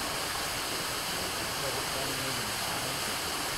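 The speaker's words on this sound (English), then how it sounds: "pump is working on the well and we can see the discharge from this black pipe" A black discharge pipe from a 2 kW solar-powered well pump pours a heavy, steady rush of water at about 260 litres per minute, a dense continuous roar without pauses.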